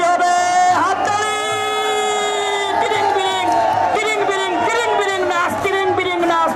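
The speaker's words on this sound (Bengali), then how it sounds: "হাততালি হবে, হাততালি।" A large crowd at a traditional Bengali village boat race roars with sustained cheering and shouting, loud and continuous throughout, with whoops and raised voices rising and falling over the din.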